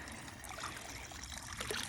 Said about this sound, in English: That's gonna fill my water bottle up so fast. Oh yeah, that's a gusher.